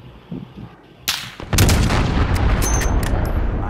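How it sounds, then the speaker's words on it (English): Loud booming blasts and crackling gunfire roll through a Call of Duty Modern Warfare battle after a cruise missile strike, starting softly and swelling into a heavy, sustained rumble. "Allied cruise missile away."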